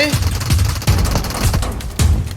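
Gunfire in PUBG Mobile: a steady series of heavy, evenly spaced shots, about five in a row, loud and close, with little talk.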